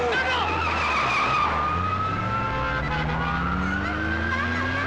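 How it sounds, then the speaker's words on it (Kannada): A car engine roars and revs with tires skidding in a Kannada movie action scene, loud and continuous throughout, with voices calling out over it. "ಗಾಡಿ ಸ್ಟಾರ್ಟ್ ಮಾಡು"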